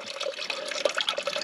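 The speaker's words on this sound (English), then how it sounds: "I'm going to mix this up with water" Water running into a container to mix seed-soaking fertilizer for buffalo grass seed, a brief steady trickle with small splashes and drips, close and fairly quiet.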